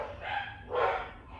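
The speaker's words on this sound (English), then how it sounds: "I'm sorry about the dog barking in the background." A dog barks in the background, two muffled, mid-distance woofs about half a second apart, fairly soft over a low room hum.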